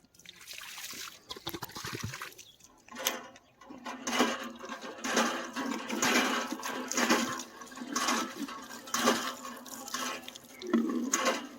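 Water running from a supply tap at a forest hermitage in Chitrakoot, heard as a steady, fairly close splashing trickle that swells and eases in irregular surges, with no talking over it.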